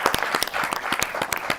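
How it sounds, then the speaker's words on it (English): An audience gives a round of applause, a brief burst of crowd clapping heard close with individual hand claps standing out in a quick, uneven rhythm. "let's get a round of applause for his mama showing up."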